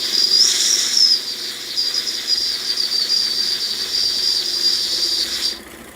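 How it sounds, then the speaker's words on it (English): Steam hisses through the whistle of a Weeden 661 model steam engine as a thin, steady high whistle over a breathy rush, cutting off abruptly near the end. "we can slow it down if we let some steam out through the whistle"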